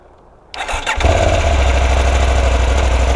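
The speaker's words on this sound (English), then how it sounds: "You should be able to push start the bike." A Honda 300 Rally motorcycle engine catches after a push start, bursting from near silence into a loud, steady, close idle that keeps running.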